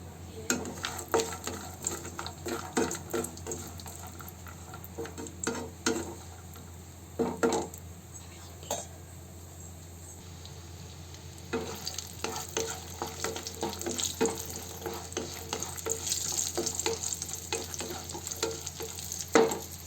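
Cashews frying in hot oil in a pan, with a steady low sizzle and recurring bursts of stirring and scraping, close and fairly quiet.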